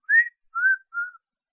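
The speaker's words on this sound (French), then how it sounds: "j'ai l'impression qu'on entend quelqu'un siffler" Three short rising-and-falling whistled notes in an otherwise silent paranormal recording, each clear and fairly loud with brief gaps between them, no voices present.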